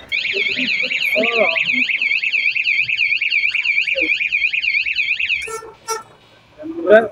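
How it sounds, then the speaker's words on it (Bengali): A combined horn and light unit salvaged from an old ship sounds a loud, rapidly warbling electronic siren for about five seconds, then cuts out into a few short bursts as people talk nearby. "এটা হচ্ছে হরন প্লাস লাইট, এটা চালা দেখে দিই"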